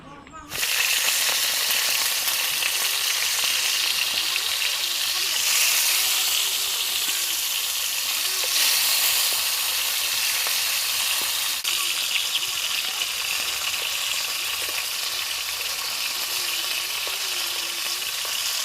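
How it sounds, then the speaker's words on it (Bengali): Snakehead (shol) fish fry in hot oil for a fish curry, giving a loud, continuous close-up sizzle that holds steady throughout, with occasional faint stirring and no voices. "প্রথমে মাছটা ভেজে নেবো"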